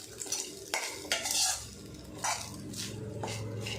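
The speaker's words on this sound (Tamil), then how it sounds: "இதை நல்லா மிக்ஸ் பண்ணி விட்ருங்க" Utensil strokes scrape and clink against a pan of radish in an uneven rhythm over a low, continuous sizzle.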